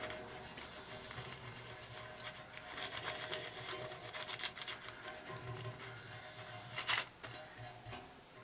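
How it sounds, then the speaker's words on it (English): A sheet is rubbed down by hand, making a continuous close scraping and rasping with repeated short strokes and one sharper scrape near the end. "I'll lay that down next to the previous one and just start rubbing down."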